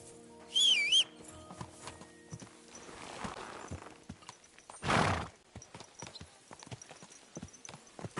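Horse in Kingdom Come: Deliverance 2 gives a loud, high whinny early on, then steady clip-clop of hooves walking on, with a sharp snort-like burst midway and scattered hoof strikes to the end.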